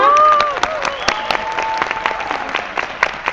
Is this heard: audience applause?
yes